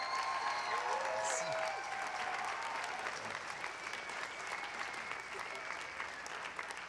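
Sustained audience applause for the technical staff at a live show, broad even clapping filling the whole stretch, with a brief spoken thanks and some crowd voices mixed in.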